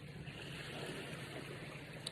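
Lake water sloshing from passing boat wakes on a busy summer fishing lake, a steady broadband wash of waves close by with no talk.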